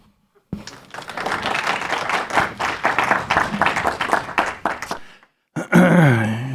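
An audience at a conference on green transition at the Port of Ystad claps for about five seconds, dense and fairly loud, before it stops and a voice begins speaking.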